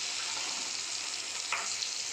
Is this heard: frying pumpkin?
yes